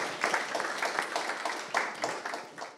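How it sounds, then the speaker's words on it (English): An audience at a Venice Biennale culture forum claps together, a moderate, even patter of many hands held steady for a few seconds before tapering off, with no voices over it. "and a big round of applause for Hans Ulrich"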